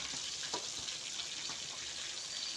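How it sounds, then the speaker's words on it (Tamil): Carp pieces fry in a shallow film of oil with a steady, close sizzling hiss that runs unbroken throughout, with a few soft bubbling pops and no voices. "நான் இந்த மாதிரி கொஞ்சம் எண்ணெய் வச்சுட்டு வறுக்கிறது"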